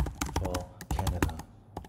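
Fingers type a search phrase on a computer keyboard, a quick, uneven burst of close, crisp key clicks and clacks with short pauses between runs.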